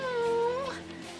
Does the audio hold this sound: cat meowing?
yes